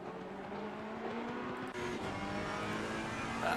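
Onboard Ferrari GT3 race car at Kyalami in the Assetto Corsa Competizione video game, a constant close engine drone with gear-driven pitch shifts and a brief dip midway, no voices.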